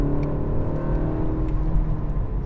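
Inside the cabin of a BMW M135 xDrive, a steady engine hum with low droning harmonics and faint road noise, fairly loud and continuous, without talk.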